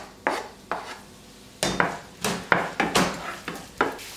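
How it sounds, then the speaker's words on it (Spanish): Onion sautéing in oil in a hot frying pan, heard as a series of sharp utensil clanks and scrapes against the pan in an irregular rhythm, close and fairly loud, with no talking. "Sofreímos un poquito la cebolla."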